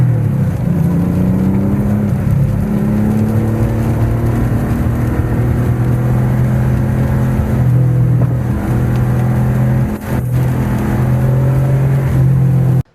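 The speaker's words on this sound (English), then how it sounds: "This being my first Porsche, I was incredibly impressed with how a 32-year-old vehicle performed." A 32-year-old Porsche 911 Safari project car drives along a back road, its engine a loud, close, continuous drone with shifting pitch as it accelerates, cutting off abruptly at the end.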